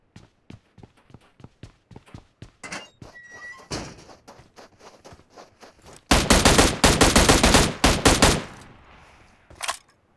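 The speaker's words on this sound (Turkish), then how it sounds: "İkinci botu vuruyorum" Gunfire from shooting bots in the PUBG Mobile video game: sparse single shots and thuds build into a loud, close, rapid automatic burst that lasts a few seconds, then ends with one last shot.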